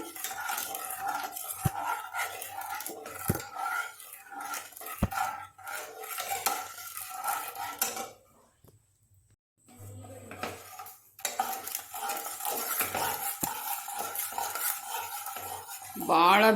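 Mysore pak flour mixture of oil and ghee stirred in a pan over low flame, a busy metal spoon scraping and clinking close up with sharp knocks, pausing in near silence midway before resuming.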